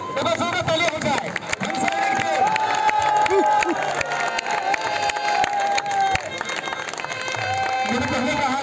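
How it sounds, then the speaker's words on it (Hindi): Crowd cheering and applause at a volleyball tournament during a sports and cultural meet, a sustained noisy roar with shouts and whistle-like tones riding over it throughout. "एक बार जोरदार तालियां हो जाए"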